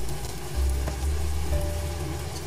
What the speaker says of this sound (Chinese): 培根爆出油脂后，倒入玉米粒，再一起翻炒。